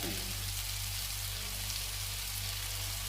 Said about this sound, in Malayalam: വെളുത്തുള്ളി കുഞ്ഞുള്ളിയെല്ലാം കൂടി അരച്ച് വെച്ച ഗ്രേവി ഉണ്ടല്ലോ അത് ചേർത്തിട്ട് ഒന്ന് അതിൽ പച്ചച്ചായ മാറും വരെ വഴറ്റി വെക്കണം